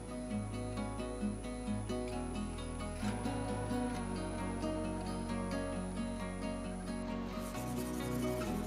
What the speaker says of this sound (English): I go through a few sheets of 600 grit Rhino Wet on the disc grinder